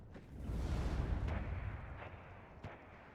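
Smerch rocket artillery firing in the war game WARNO, a deep rumbling launch roar that swells and holds, followed by a couple of sharper distant booms, loud but somewhat muffled, with no talk.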